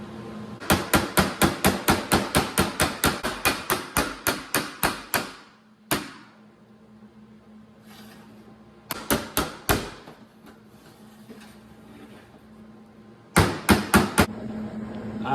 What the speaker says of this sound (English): I'm gonna take a hammer and dolly and tap that edge a little,